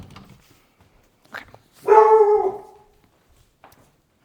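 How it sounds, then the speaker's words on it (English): An excited puppy barks indoors in a kitchen, with a couple of faint short yips followed by one loud, drawn-out bark that trails into a whine, then quiet; a voice briefly says a word at the start. "I apologize for the puppy going crazy"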